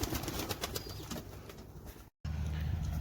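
Pigeons being fed rice outdoors in Saudi Arabia, giving soft low cooing over a constant ambient background, with a brief dropout near the end before the murmur resumes.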